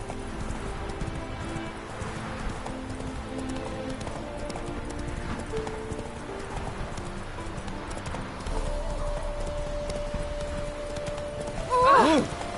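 The horse Roach gallops with steady, rapid hoofbeats in The Witcher 3 video game, set over music and ambient game sound, with a brief voice near the end.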